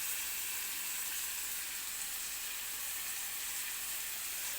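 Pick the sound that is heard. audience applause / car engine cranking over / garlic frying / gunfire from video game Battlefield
garlic frying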